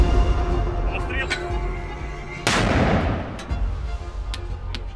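A single loud 82 mm mortar blast on a front line cuts through the middle, booming and echoing over a background of outdoor noise and a voice.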